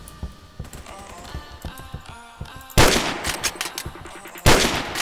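Gunfire in the Roblox game Phantom Forces, with sharp rapid shots early on, then two loud, dense bursts of automatic fire that mask everything else.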